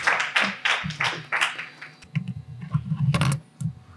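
An audience claps at a ceremony welcoming new baccalaureate graduates, with scattered sharp claps that come in bursts and then thin out over a low background rumble.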